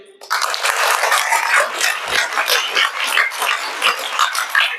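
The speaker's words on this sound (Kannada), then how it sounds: "ಎಲ್ರು ಜೋರಾಗಿ ಚಪ್ಪಾಳೆಯನ್ನು ಹೊಡಿರಿ." Loud, dense clapping from a crowd at a school enrolment drive celebration, starting abruptly and continuing steadily throughout with no talk over it.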